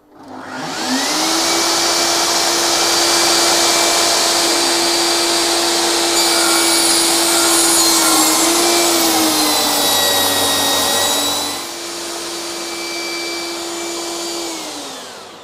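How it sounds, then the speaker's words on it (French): A Festool TKS 80 table saw runs up and cuts through wood: a loud, steady motor whine with a sustained cutting tone across the middle, then a lower idle before spinning down. "et j'allume ma scie."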